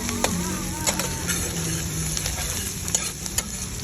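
Menudo frying in a pan and being stirred, a continuous crackling sizzle overlaid with repeated scraping and clacking strokes of a utensil against the pan, close and fairly loud with no talk.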